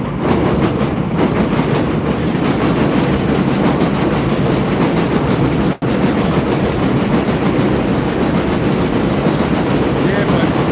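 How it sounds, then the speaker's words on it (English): Loud train passing close by, a steady heavy rumble with rhythmic clickety-clack of wheels on rails filling the whole stretch, briefly cut once midway. "another loud-ass train goes by"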